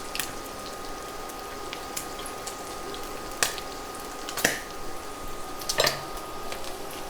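Bacon crisping in a pan on a turned-down burner, giving a steady soft crackle with scattered sharper pops.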